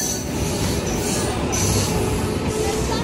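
A train at a small rural station on the Digha line near Mandarmani rumbles and squeals loudly and continuously, with wheel and rail noise filling the whole stretch and no talk.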